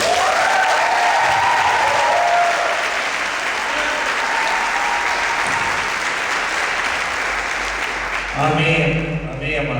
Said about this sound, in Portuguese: que você recebesse uma salva de palmas